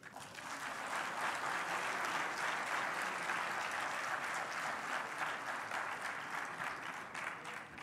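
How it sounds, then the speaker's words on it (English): Continuous applause from a forum audience at a trade conference in Kigali, an even wash of many hands clapping, sustained and moderately distant. "could you give a loud applause?"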